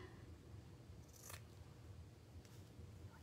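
Scissors snip through nest material while a wired bird cage cloche is being made, a crisp cut near the start and a fainter second snip later, both quiet and close over a low steady background hum.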